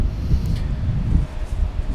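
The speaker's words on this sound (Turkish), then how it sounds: "Lan ne kadar rüzgar geliyor ya." Wind buffets the microphone in a steady low rumble with gusty swells, loud and close, with no talking.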